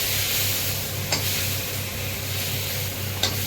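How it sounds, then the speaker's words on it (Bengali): Lentil dumplings (bori) frying in hot oil, a continuous close sizzle with two short stirring scrapes. "এবার বড়িগুলো ভেজে নেব।"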